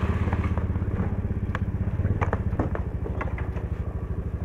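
A motorcycle ridden at 2 a.m. on the road toward Soekarno-Hatta Airport, its engine throbbing in a fast regular pulse with light rattles and wind, close and steady.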